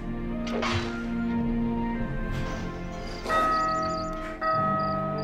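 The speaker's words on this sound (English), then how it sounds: "The bell is, is clanging." A bell clangs in the game The Guild 2: Renaissance with several loud metallic strikes whose ringing tones overlap and decay between hits, heard among light background game sounds.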